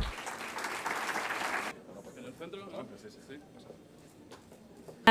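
Audience applause at an entrepreneurship awards ceremony, a dense burst of clapping for the first couple of seconds that then cuts off, leaving quieter room sounds and some voices.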